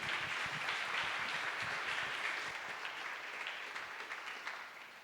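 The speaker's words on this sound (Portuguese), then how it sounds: "Um aplauso para esse lindo casal" A congregation claps for a couple at a church family celebration, with steady, dense applause that holds for about five seconds and slowly tapers toward the end, heard at a moderate distance with no talking.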